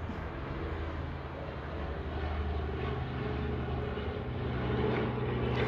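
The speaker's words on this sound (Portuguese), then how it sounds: "Esperar um helicóptero passar." A helicopter passes overhead, a distant continuous engine and rotor drone that slowly swells louder over several seconds, with no speech.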